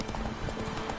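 Hooves of the horse Roach beat steadily in The Witcher 3 video game, a fast galloping clip-clop heard continuously at moderate loudness under a faint background hum.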